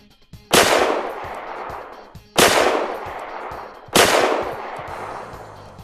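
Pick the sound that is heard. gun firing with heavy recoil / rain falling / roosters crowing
gun firing with heavy recoil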